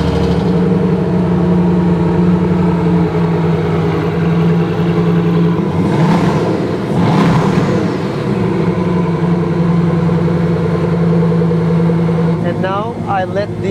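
A car engine idles just after start-up, a steady low hum that drifts slightly as the revs settle, heard close by with someone talking over it throughout.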